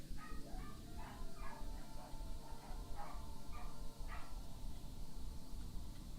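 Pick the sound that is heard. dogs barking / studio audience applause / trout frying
dogs barking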